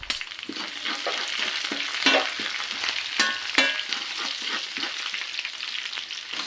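Ginger and garlic sizzle and fry steadily in a hot pan with oil, stirred now and then with a few scraping clicks, close and continuous with no talking, early in making chilli gobi.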